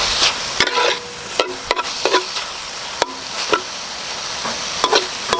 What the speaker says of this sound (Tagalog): pag ganyan na siya, sumisirit-sirit na, lalagyan na natin ng maanghang chili flakes, mantika